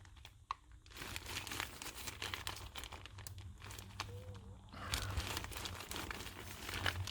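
Paper backing is peeled away from a hardened glued patch on a kiteboarding bladder valve, a steady crinkling and tearing rustle close up, continuous for several seconds with no voices.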